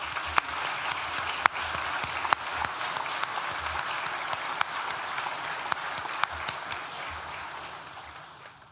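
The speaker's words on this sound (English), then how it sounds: "Please join me in thanking them with a well-deserved round of applause" Graduation ceremony audience at the School of Animal, Rural and Environmental Sciences applauds steadily, a dense, even wash of many hands clapping with a few sharper claps standing out, fading slightly at the end.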